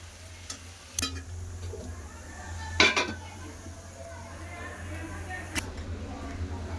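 A lid is set on a pot of shrimp and pui shak curry with ground cumin. Scattered metallic clinks and one louder clatter of the lid land over a steady low kitchen hum, with faint background voices.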